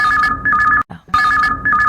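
Telephone ringback on a Chhattisgarhi song-request radio phone-in: two loud bursts of steady paired ringing tones, each broken into pulses, separated by a short silent gap.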